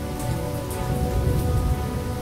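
Steady rain falls over a tiny deserted railway station in the video game Lost Horizon, a dense, even hiss of drops on surfaces that continues unbroken and fairly close.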